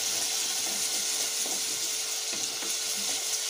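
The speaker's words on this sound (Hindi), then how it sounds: "थोड़ा चला लेते हैं क्ले पॉट जब हम यूज़ कर रहे हैं तो हमेशा याद रखिए इसके लिए वुडन स्पैचुला या वुडन स्पून ही यूज़ करें" Ginger and garlic frying in a clay pot, stirred with a wooden spatula: a steady close sizzle throughout, with soft scraping strokes of wood against clay at intervals, no talking.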